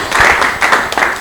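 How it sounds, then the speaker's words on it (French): An audience claps briefly during a comedy show in Lubumbashi, close and fairly loud, a short burst of applause with uneven pulses. "vos applaudissements"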